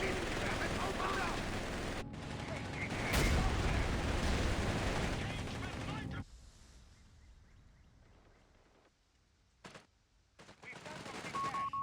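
Machine gun fire from a Company of Heroes 3 battle: dense rattling bursts over rumbling battle noise for several seconds, then a quieter stretch with a brief loud pop and the din returning at the end.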